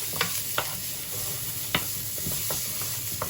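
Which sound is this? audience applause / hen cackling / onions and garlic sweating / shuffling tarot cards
onions and garlic sweating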